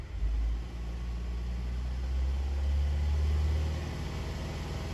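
A Saturn Vue engine with a flashing check engine light revving up toward 3,000 RPM, a low steady drone whose pitch climbs gradually, close and moderately loud with no talk.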